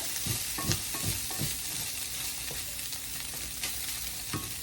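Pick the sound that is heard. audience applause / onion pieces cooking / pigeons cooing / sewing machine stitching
onion pieces cooking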